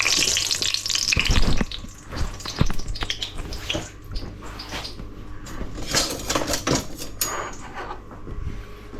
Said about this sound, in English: I'm gonna fry them skin side down.